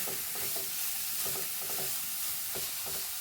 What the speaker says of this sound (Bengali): আস্তে আস্তে নাড়তে হবে যেন এটা লেগে না যায়